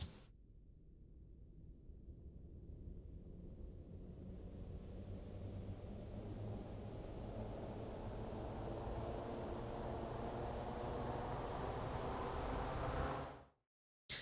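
A long, hissing, time-stretched synth riser climbs slowly and evenly over about thirteen seconds, growing brighter before stopping sharply. No voices are heard.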